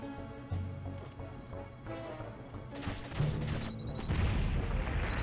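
Bombs going off in the Owlboy game: a run of booming, crashing blasts over game music, growing louder and denser toward the end, with no voices over them.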